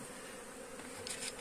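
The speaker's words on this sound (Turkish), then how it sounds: "Şu anda önümüzde polenini alacağımız bir arımız var arkadaşlar." Honeybee buzzing at a hive entrance fitted with a pollen trap, a faint continuous drone with a few brief closer passes near the end.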